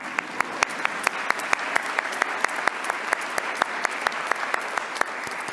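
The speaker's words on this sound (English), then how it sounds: "We can all clap." Audience applause at a global pluralism award ceremony, a broad steady clapping from a large hall with a few sharp, distinct hand claps cutting through the crowd sound at regular intervals.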